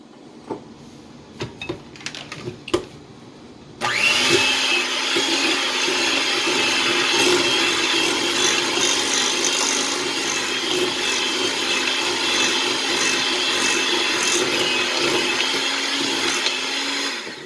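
After a few brief knocks and clatters, an electric mixer starts abruptly, beating softened butter and cream cheese for a pound cake with a steady, loud motor whir and the churning of the thick batter.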